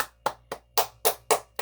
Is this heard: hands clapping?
yes